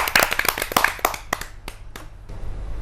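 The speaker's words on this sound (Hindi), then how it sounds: "तो तालियों की गड़गड़ाहट से स्वागत कीजिए मनोज मिश्रा जी।" Scattered hand claps from an audience greeting the poet Manoj Mishra at a Hindi kavi sammelan poetry gathering, a run of sharp, fairly close claps that thin out and fade to quiet.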